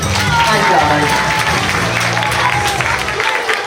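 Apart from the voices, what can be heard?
audience applause for volunteer Troy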